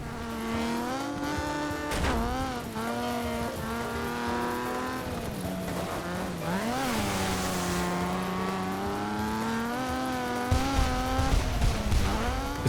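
A race car in the DiRT 2 video game drives hard, its engine whining and climbing through the gears with rising and falling pitch. Brief tire squeals and other cars join in, steady and loud throughout.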